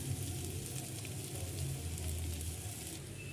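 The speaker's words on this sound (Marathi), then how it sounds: "तर आता आपण याच्यामध्ये जो भिजलेला साबुदाणा आहे तो आपण याच्यात टाकूया" Soaked sabudana (tapioca pearls) hits a hot pan of sautéed ingredients, giving a steady, close sizzle and crackle that holds evenly throughout.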